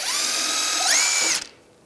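A power tool fitted with a 24mm socket spins off a tie rod nut on a 2013-2016 Dodge Dart, a loud, close whirring whine that climbs in pitch partway through, then stops abruptly with a short clatter.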